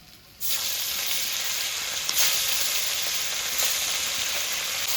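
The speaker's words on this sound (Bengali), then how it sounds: "মাছগুলো নামিয়ে নিয়েছি, এবার বাকি মাছগুলো এভাবে ভেজে নেব।" Pieces of katla fish fry in a pan of hot oil. A loud, steady hiss starts suddenly and continues without a break, with faint crackles and no talking.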